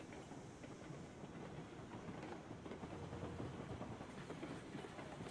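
Train rolling along the tracks in the video game Railroads Online: a quiet, steady rumble with faint rhythmic clickety-clack of wheels over rail joints, continuous throughout with no talk.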